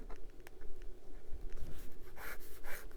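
A Majohn A1 capless fountain pen with a fine steel nib scratches across paper, close and quiet, in short irregular strokes with faint scraping bursts.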